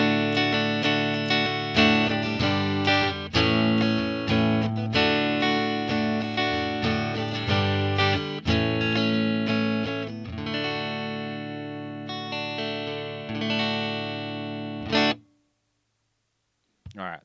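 Electric guitar with humbuckers split to single coil, neck pickup selected, played with a clean tone through a pedalboard rig: a steady run of ringing, harmonically rich notes and chords that fades out, followed by a brief final strum.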